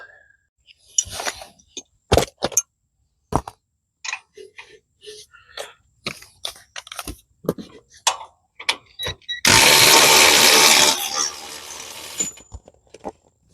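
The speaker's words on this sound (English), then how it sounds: "Thank you, automatic wrench." A pneumatic impact wrench works on a John Deere STX38 lawn tractor with a Kohler 12.5 hp engine, a roughly three-second loud rattling burst near the end, after scattered clanks and tool knocks, with no talk.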